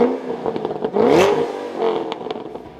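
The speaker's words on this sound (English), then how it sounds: "I went with the Corsa Sport Axleback Exhaust, which came in at a healthy 4 out of 5 on my Wake to Neighbor scale" Ford Mustang GT500 fitted with a Corsa Sport axleback exhaust revs up loudly nearby, climbing to a peak around the middle and then dropping back to a burbling idle with a second smaller blip.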